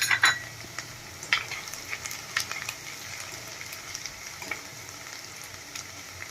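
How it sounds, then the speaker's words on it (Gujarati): Garlic cloves and a pinch of asafoetida frying in hot oil until golden brown, giving a steady close sizzle with a few sharp pops and light utensil clicks. "લસણને આપણે થોડું ગોલ્ડન બ્રાઉન થવા દઈશું ચપટી આપણે એમાં હિંગ એડ કરી"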